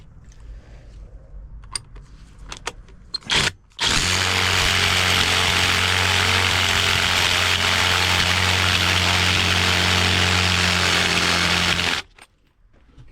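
A power drill with a fresh new bit bores steadily through metal, a loud sustained whine with a droning motor tone running about eight seconds, preceded by a few short clanks and a brief motor burst, then stopping abruptly.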